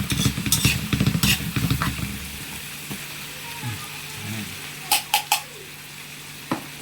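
Corned beef sautéing in a pan, stirred with a utensil, giving a steady sizzle with scraping strokes for the first two seconds, then quieter frying with a few sharp clinks of the spoon against the pan.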